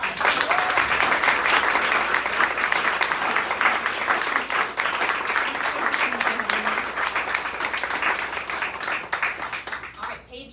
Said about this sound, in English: let's all give Paige another round of applause